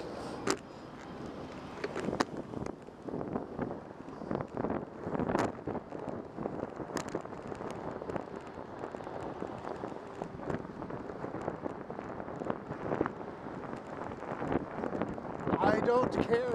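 Gusty wind buffets the microphone with steady broadband rumble on the San Francisco-Oakland Bay Bridge bike path, while people talk throughout and footsteps or movement clatter in the background.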